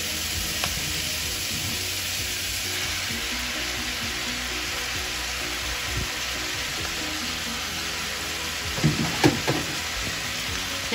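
Nopales fry in a pan with sautéed tomato and vegetables, giving a steady, dense sizzle throughout with occasional soft scrapes and stirring knocks near the end, no voices.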